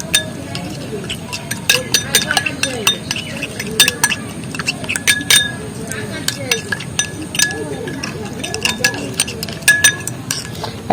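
A spoon clinks repeatedly against a bowl while a homemade hair pack with raw milk and lemon is mixed, sharp irregular taps close by over a soft scraping stir, with no talk.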